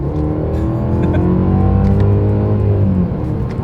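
A 2025 Mercedes-Benz E 350 in sport mode with manual paddle shifting accelerates hard from inside the cabin, its engine note rising steadily and loudly in pitch for about three seconds before easing off.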